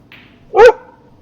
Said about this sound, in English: Were you barking at that hawk?